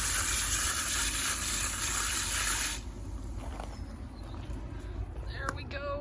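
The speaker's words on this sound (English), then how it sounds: "Gonna give it a good rinse." A steady gush of tap water pours into a plant pot for about three seconds while it is rinsed out, then cuts off, leaving light knocks and clatter of handling the pot.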